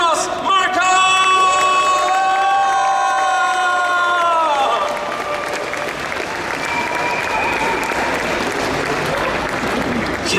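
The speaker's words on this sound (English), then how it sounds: "il faut lui applaudir parce que c'est ce qu'on fait ici" A large convention crowd at a comic con Q&A in Brussels claps and cheers loudly for a guest actor, with whoops and shouts rising over steady applause that continues throughout; early on, a sustained musical tone rings above the noise.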